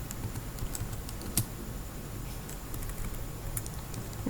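Quiet keystrokes on a computer keyboard while entering text into an Excel spreadsheet, a steady patter of soft clicks with one sharper tap, close and alone with no voice.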